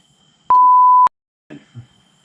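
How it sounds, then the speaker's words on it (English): A single loud, pure-tone censor beep lasts about half a second, followed by a short, faint murmur of voice. "I think I have to put a beep in there."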